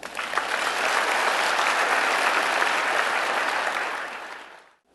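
A keynote audience claps hands together in a dense, even burst lasting about four seconds before fading out quickly.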